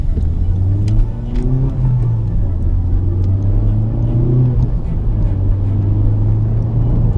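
A Honda Civic Type R engine hums steadily from inside the cabin, its pitch rising and falling as it drives in rain over wet leaves, with a constant low road rumble.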